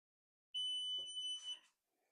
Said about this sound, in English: you touch the Wi-Fi button on top until you hear the long beep